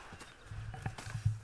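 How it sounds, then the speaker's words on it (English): Horses in the Red Dead Redemption 2 video game snort and whinny softly while hooves clop irregularly on the ground, close but fairly quiet. "Now, I reckon these horses can have it down in a minute."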